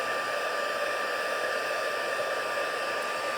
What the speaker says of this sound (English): So now I'm using my heat tool.